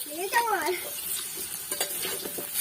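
Potatoes frying in oil in a pan for a home-style chicken curry, a steady sizzle with scraping stir strokes near the start, close and moderately loud.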